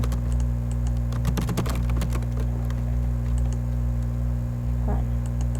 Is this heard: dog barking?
no